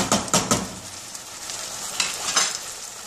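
Onion sizzling and frying in a pan for a quick Ramadan dish, with a steady bright crackle and a few louder stirring scrapes near the start and end, close up with no talk.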